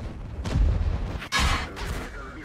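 In a tank video game, an IS-7 heavy tank takes a shell hit: a loud, sharp impact boom cutting in abruptly, with a rumbling blast and engine noise before and after.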